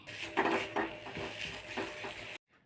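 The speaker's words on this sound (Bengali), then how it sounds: "এরপরে ভালো করে নেড়ে চেড়ে কষিয়ে নিতে হবে" Ground spices such as black pepper being stirred and sautéed in a cooking pan, with continuous scraping and soft sizzling and a few louder strokes, ending abruptly in near silence.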